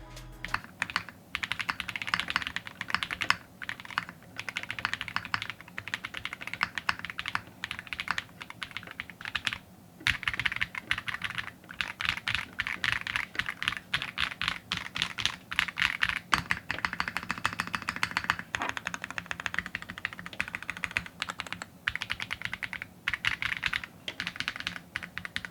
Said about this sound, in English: I'm gonna let you get the first typing experience since it's your board.